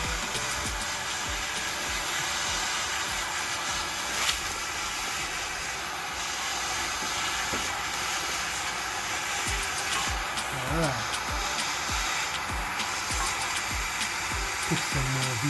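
Arc welding a bead onto brake parts for a Nissan B13 Sentra with a VQ35 engine, a continuous crackling hiss that runs steadily throughout, with brief quiet talk.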